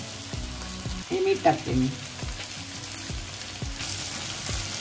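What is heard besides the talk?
tomato egg masala frying on a tava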